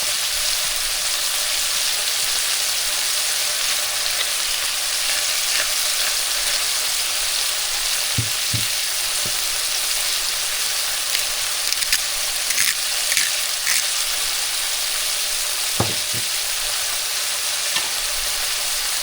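Chicken frying in a pan, with a steady, loud sizzle throughout and occasional faint taps and scrapes of a utensil against the pan.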